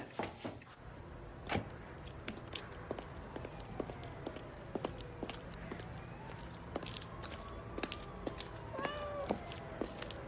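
A house cat meows repeatedly in a quiet indoor room, several short, clear calls spread across the span, with faint rustling and small knocks beneath and no talking.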